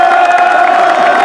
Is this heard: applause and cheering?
yes